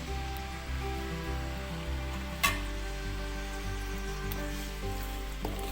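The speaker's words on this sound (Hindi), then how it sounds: "ऑयल गर्म हो चुका है। ये अब मैं इसमें प्याज ऐड करूँगी।" Onions sizzle and fry steadily in hot oil in a home kitchen pan, a continuous crackling hiss with a small clatter partway through, fairly close and alone without talk.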